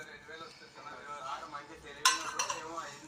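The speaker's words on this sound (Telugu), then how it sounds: "ఉడకబెట్టుకున్న బంగాళాదుంపలు ఇలా మెత్తగా మెదిపేసుకోవాలి" Boiled potatoes being mashed in a metal bowl or pot, soft scraping and squishing with a couple of sharper clinks of utensil against the vessel near the end, close and fairly quiet.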